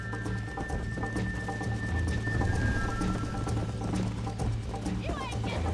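Horse hooves gallop in steady clip-clop rhythm across the Red Dead Redemption game world, a continuous mid-level beat under dense background sound with voices talking over it.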